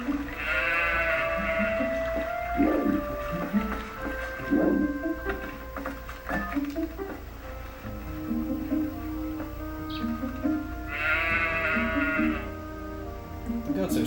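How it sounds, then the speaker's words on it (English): Goats bleat in the Zelda: Twilight Princess game, several wavering cries scattered across a game soundscape with music, the calls recurring near and fairly loud. "The goats are so adorable."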